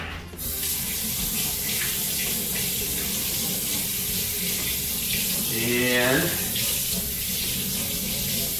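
A kitchen tap runs steadily, a loud continuous hiss and splash of water into a sink, while a person speaks briefly over it.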